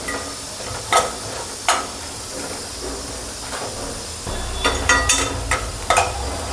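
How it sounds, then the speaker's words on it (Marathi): Dried coconut frying in oil until reddish, with a steady sizzle and hiss broken by sharp scraping stirs, several clustered strokes near the end. "तेल टाकते। खोबरं चांगलं लालसर होऊ द्यायचं।"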